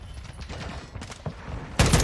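Call of Duty: Modern Warfare 2 multiplayer match with a mortar strike inbound, a rattle of distant gunfire and muffled impacts, then a sudden loud, booming blast at the end.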